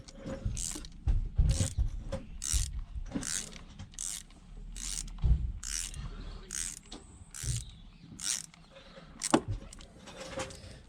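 Torx T30 screws being turned out of the injector cover on a Volvo V70 engine, heard as a steady run of small ratcheting clicks and soft creaks from close by, with no talking.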